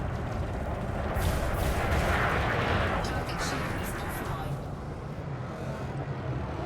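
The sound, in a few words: weapons fire at targets in Elite Dangerous video game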